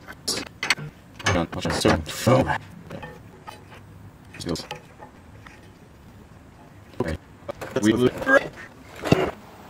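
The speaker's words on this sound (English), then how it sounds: "I'm going to cinch down this banjo bolt" A wrench or ratchet tightens a banjo bolt on a brake line compression fitting on a 1966 Jeep CJ5, giving scattered metallic clicks and ratcheting bursts mixed with someone talking.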